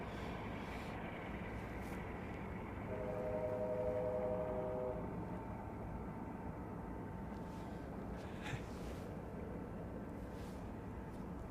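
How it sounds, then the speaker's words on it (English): A distant train sounds in Anchorage near an airport, with a low steady rumble throughout and a sustained horn-like tone drifting in for a couple of seconds, far off and faint. "You're gonna love the distant train."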